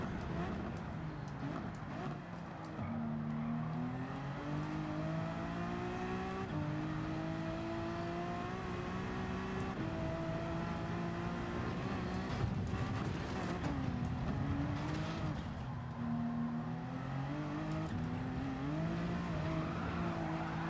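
A race car in Gran Turismo 7 at the Nurburgring Nordschleife drones through repeated rising and falling engine tones as it accelerates, shifts and brakes hard into corners, with occasional tire squeal, a continuous loud run.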